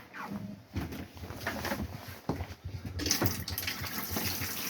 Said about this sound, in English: Plenty of water pressure in the vanity sink, all good.